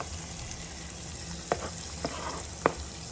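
Scotch bonnet pepper sizzling in a hot pan for a Caribbean omelette: a steady close hiss of frying, with a few sharp utensil taps and stirring clicks over it.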